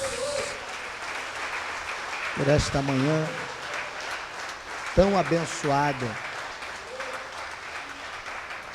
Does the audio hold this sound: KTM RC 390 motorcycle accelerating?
no